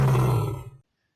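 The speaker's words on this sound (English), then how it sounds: "If four lions hear a roar sound like it comes from 10 lions" A single loud lion roar, deep and rumbling, cuts off abruptly into silence.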